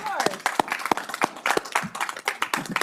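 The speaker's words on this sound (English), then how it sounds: "I'm going to ask the committee down here to do a little round of applause for them" A small legislative committee clapping in a hearing room, a few sparse close hand claps in an uneven rhythm, brief and light, with voices talking over them.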